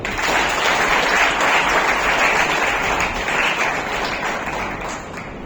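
An audience at an oratory award ceremony breaks into loud applause for a jury member, a thick, sustained burst of clapping that stays strong and eases slightly at the close.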